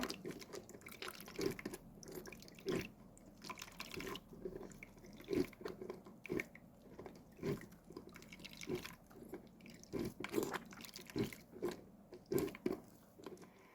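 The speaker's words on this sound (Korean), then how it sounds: "부으면서 걸러가지고 이 건지를 물기를 꽉 짜요." Strained grated potato is squeezed by hand to press out the water, giving repeated wet squishes and drips in an irregular rhythm, close and fairly quiet.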